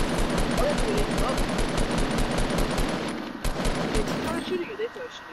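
Rapid automatic gunfire in the Fortnite video game rattles in a fast, even burst of shots that runs loud for about three seconds, then breaks into scattered shots, with people talking over it.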